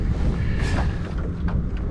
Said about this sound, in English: It's so windy, I'm just getting blown around like crazy.